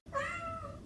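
A single drawn-out domestic cat meow from a flu shot advertisement, loud and close, rising then trailing off over a faint low background.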